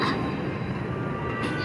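A Manhattan-bound 2 subway train rumbles steadily with a dense, low roar and faint hiss, continuous and fairly close, no voices.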